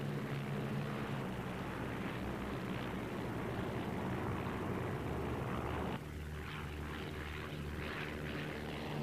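De Havilland Tiger Moth biplane with a Gipsy Major piston engine flying at a warbirds air display, a steady droning propeller-engine hum that holds loud and constant throughout, its tone shifting slightly partway through.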